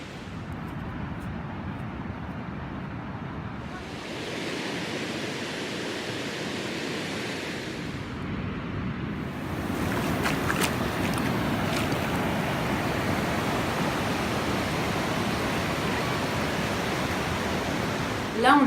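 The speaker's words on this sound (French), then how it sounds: "On va se poser au bord de la plage à Hermanus." Waves wash in steadily on a beach at Hermanus, South Africa, a broad continuous roar of surf with wind. It swells a little louder partway through and carries on unbroken with no clear voices.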